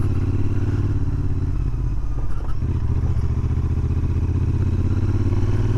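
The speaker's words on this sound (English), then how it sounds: "It's got a nice exhaust note, very nice." A Royal Enfield Interceptor 650 parallel-twin idles with its standard exhaust, a steady, meaty low burble that runs close and even throughout, with a short blip and some wind noise partway through.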